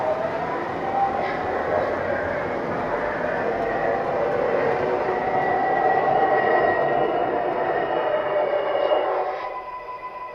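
An MTH R142A model subway train set running, a steady whirring motor hum with rolling rail noise, quite close, that holds level for most of the time and then fades near the end.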